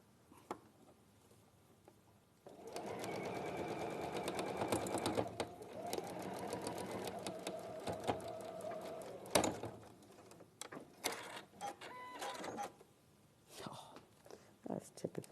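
A sewing machine stitches half-square triangle quilt pieces together in bursts, first a sustained whirring run and then shorter stop-start stitching with clicks and handling noises, fairly quiet and close.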